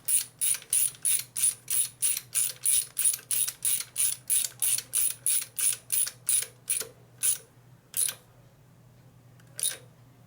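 A hand wrench ratcheting a Loctite-coated bolt into a custom rigid bobber chopper motorcycle, with about twenty quick, evenly spaced close clicks that slow and stop, then one final click.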